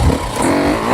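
A motocross motorcycle's throttle opened on a hill climb, a short loud revving engine roar close by.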